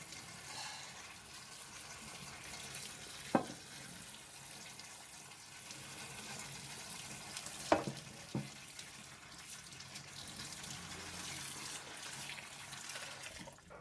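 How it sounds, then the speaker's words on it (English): Running tap water streams steadily over a non-stick pan as detergent is rinsed away in a kitchen sink, a constant close splashing hiss with a few brief knocks and clatters from the pan. "Turn off the water and rinse off the detergent thoroughly with clean water."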